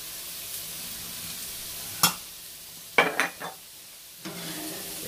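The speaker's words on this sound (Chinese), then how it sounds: "俾啲生姜繼續去煎" Fresh ginger and tofu frying in a pan for braised shiitake mushroom and frozen tofu, a low steady sizzle punctuated by a few sharp scraping and clanking strokes of a spatula against the pan.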